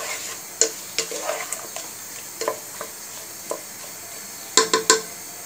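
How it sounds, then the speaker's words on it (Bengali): A spice mixture for snakehead fish stew with beans and potatoes is stirred in a pan, a low sizzle broken by scattered scraping and knocking strokes of a spoon, ending in a quick cluster of three clanks; nobody talks. "মশলাটা মিক্স করে দিচ্ছি।"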